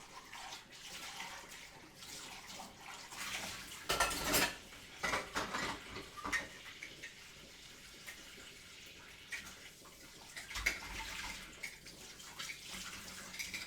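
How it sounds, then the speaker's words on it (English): Milk pot from a moka pot coffee setup washed in a kitchen sink: running tap water, splashing and clanking metal against the basin, with louder bursts of water and clatter midway, close and moderately quiet. "quickly clean my milk pot"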